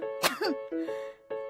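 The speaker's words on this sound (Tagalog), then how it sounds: "Ano ba naman tong ubo na to?" A person coughs in a sharp, close burst, followed by a throat-clearing rasp and faint tonal background sound.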